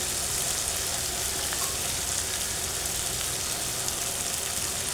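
Garlic and onion frying in a pan for an arbi dish, a steady close sizzle that stays even throughout with no talk over it.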